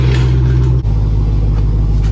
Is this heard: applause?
no